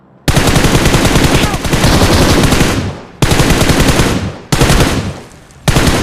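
Battle royale video game gunfire, with long loud bursts of rapid automatic fire broken by three short pauses, close and dominant.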